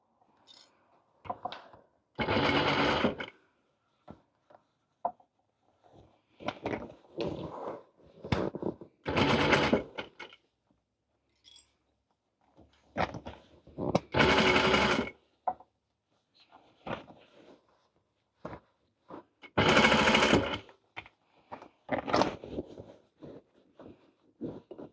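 A sewing machine stitches a witch hat with cat ears in short bursts of rapid whirring, separated by quiet pauses and small handling clicks, close and fairly soft.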